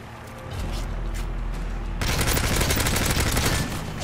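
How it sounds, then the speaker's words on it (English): Enemy gunfire in the Modern Warfare 3 Survival Mode game, dense rapid bursts of shots that grow louder and fuller halfway through, continuous and close over a low rumble. "they're shooting me through the material"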